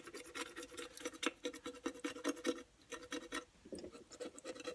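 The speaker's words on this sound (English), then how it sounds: "You're gonna start by taking this writing off, and as you can see, you can just scrape it off." Printed lettering being scraped off a Dollar Tree Christmas shadow box surface with an X-Acto knife: rapid, dense scratchy rasping strokes, close and steady, with short pauses between bursts and no talking.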